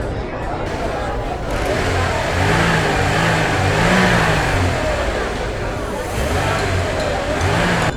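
An old, beat-up car engine revving in a steady mid-pitched drone that swells and eases in waves, loud and close, with a rising whine, under an indistinct background murmur.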